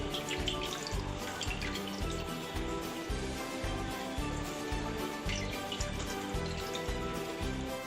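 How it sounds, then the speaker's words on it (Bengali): Water is squeezed out of homemade chhena through a cotton cloth for rasgulla, giving a steady, close trickling and dripping wash that runs without a break. "ঠিক এরকমভাবে চিপে নেবো রসটা।"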